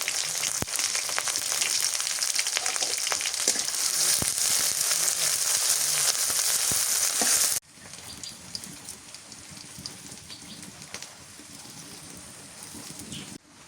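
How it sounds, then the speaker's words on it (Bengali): Onion, green chili, bay leaf and whole spices sizzling in hot oil over a village cooking fire, a loud steady crackling frying that drops to a softer sizzle partway through. "কাঁচামরিচ পেঁয়াজ মশলা একটু ভাজে নিলাম। এখন এগুলো তেলের মধ্যে ভালো করে ভাজে নিই।"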